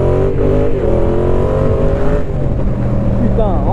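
A Yamaha Tracer 700 motorcycle engine drones steadily at close range while the rider works through the gears toward third, with the engine pitch shifting near the end.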